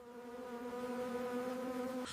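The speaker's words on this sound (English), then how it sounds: "Bees transfer pollen from male phase flowers to female phase flowers." Bees buzz steadily around avocado flowers during bloom, a close, continuous droning hum that holds for about two seconds and then cuts off abruptly.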